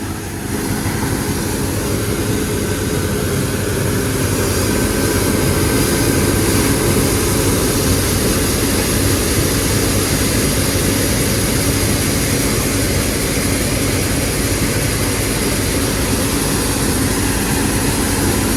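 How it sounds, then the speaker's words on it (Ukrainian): A combine harvester with a 3.2 m header runs at a loud, constant roar, a heavy low engine drone with steady high-pitched whine and no breaks. "Такий комбайн."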